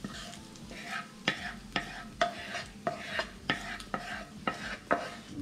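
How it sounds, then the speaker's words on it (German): Fried onions and sausages tipped into a hot pan for a pasta bake, producing a steady sizzle broken by a regular series of about ten scraping stirs, close and moderately loud, with no talking. "Jetzt geben wir unsere angebratenen Zwiebeln und Würstchen dazu."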